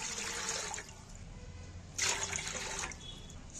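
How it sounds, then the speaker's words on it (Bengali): Water is poured from a mug into a pot of rice for mutton biryani over a lit stove. Two quiet splashing gushes come alone, the second starting after a short pause, with a faint trickle between them. "750 চালেতে আমি 3 লিটারের মতো জল দিচ্ছি"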